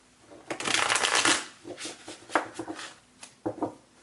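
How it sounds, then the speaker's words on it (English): A deck of tarot cards being shuffled close by, a long riffle followed by several shorter quick bursts of flicking cards. "And let's do one more shuffle here for Taurus."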